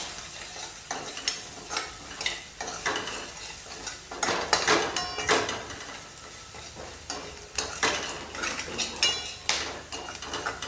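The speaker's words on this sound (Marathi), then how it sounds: "अजून थोडा टाकला आहे आणि याला चांगलं मिक्स करून घेत आहे।" Soya chunks being stirred with black masala in a pan, a spoon scraping and clinking against the metal in repeated strokes over a steady background sizzle, close and fairly loud.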